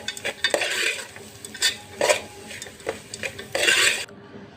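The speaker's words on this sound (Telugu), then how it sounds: "ఇలా ఈ తాలింపుని అన్నానికి మొత్తం ఇలా కలిపేసుకోవాలి." Cooked rice being mixed with a tempering in a pan for pulihora, with repeated scraping and stirring strokes of a spoon against metal over a light sizzle, close and rhythmic in short bursts, with no voices.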